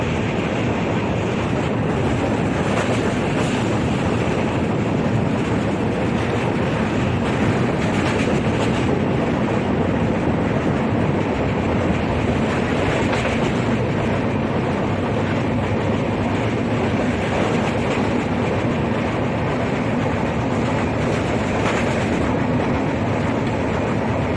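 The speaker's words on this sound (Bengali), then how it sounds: "ট্রেনের মধ্যে আমাদের।" A moving passenger train on a long-distance Indian rail journey, its steady rumble and clickety-clack of wheels on rails continuous and close, with no voices, like the sound from inside a carriage.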